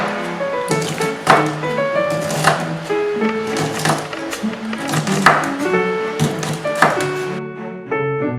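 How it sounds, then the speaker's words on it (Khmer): Knife chopping long beans into small pieces on a board for shrimp fried rice, a quick run of sharp, close taps with steady rhythm and a few accented strikes, no talking. "សណ្តែកគួរយើងកាត់វាជាកង់ល្មមតូចល្មមបងប្អូនចា"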